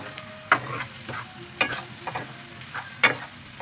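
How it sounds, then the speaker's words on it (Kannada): A spoon stirs chili powder into a sizzling spinach mixture in a pan, making three sharp scraping strokes over a soft, steady frying hiss. "ಸ್ವಲ್ಪ ಖಾರದ ಪುಡಿ, ಚೆನ್ನಾಗಿ ಮಿಕ್ಸ್ ಮಾಡ್ಕೊಬೇಕು"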